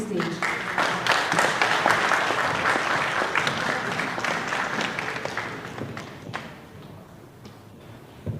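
An audience at a live IPO listing event applauds as a speaker is welcomed to the stage, a dense, loud burst of clapping that gradually thins and fades toward the end.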